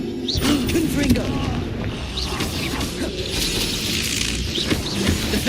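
A Confringo blasting spell explodes in the Hogwarts Legacy video game, bringing a dense, booming crash with crackling debris that rolls on for several seconds amid busy combat effects.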